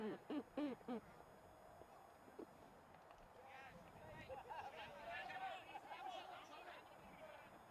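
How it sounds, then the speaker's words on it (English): A pigeon coos softly at an outdoor cricket ground in Krefeld, Germany, during a T10 match, its low murmuring calls drifting over a steady background of crowd noise and distant voices. "I'm just enjoying listening to the pigeon"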